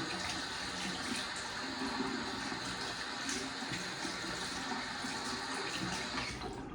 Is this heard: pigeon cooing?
no